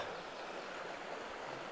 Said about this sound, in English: there's definitely more water in the river this morning